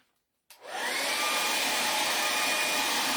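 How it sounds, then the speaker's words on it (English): A hairdryer switches on after a moment of silence and blows a steady, close, loud whoosh while drying paint on a witch's cauldron. "I'm going to hit that with the hairdryer"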